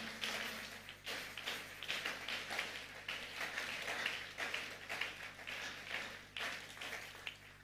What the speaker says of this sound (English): If you are clapping for Jesus, you can clap better for him.